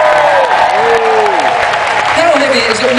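Festival audience at Latitude 2009 clapping for two performers on stage, a loud steady wash of applause while a voice talks over it.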